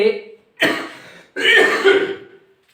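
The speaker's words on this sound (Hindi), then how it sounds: "थोड़ा सा स्वास्थ्य खराब है, इस वजह से खांसी आ जाती है।" Two harsh coughs from a person who is unwell, close and fairly loud, separated by a short pause, with a brief voiced sound just before.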